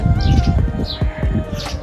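Two small birds chirp and squabble in quick, overlapping high calls that come in short bursts above a steady low rumble of background noise, with no talking.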